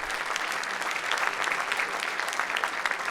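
Conference audience clapping at an AI talk, with steady, dense applause from many hands at a medium distance, held at an even level throughout.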